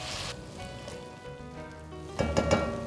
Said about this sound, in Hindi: अब इसके अंदर मैं डालूँगा अदरक लहसुन का पेस्ट और इसे भी मैं प्याज के साथ ही ज़रा सा भून लूँगा